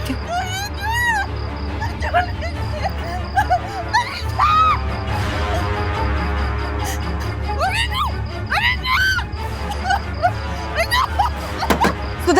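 A woman screams amid a tense domestic confrontation indoors, shrill cries rising repeatedly over loud overlapping voices and agitated talk throughout.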